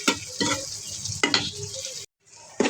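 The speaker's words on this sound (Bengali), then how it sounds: "এখন একদম ভাজা ভাজা করে ফেলবো।" Broken pieces of fish fry in a pan with cumin, sizzling steadily while a utensil stirs them in several scraping strokes, with a brief moment of silence near the end.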